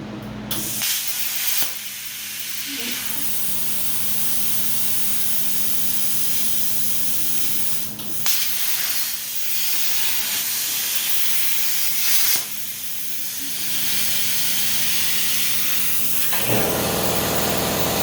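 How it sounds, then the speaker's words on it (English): An Arcdroid CNC plasma torch runs with an air compressor going, giving a loud, steady broadband hiss that dips briefly a few times before resuming. "let's see what that looks like with the torch running"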